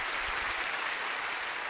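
Applause in the video game Re:Kinder, a short burst of dense, steady clapping with no voices over it.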